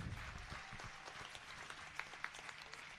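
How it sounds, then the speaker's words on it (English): Applause from an audience at a university convocation ceremony, a moderately quiet, steady patter of many hands over three seconds with a few sharper individual claps standing out, heard from some distance. "A huge round of applause"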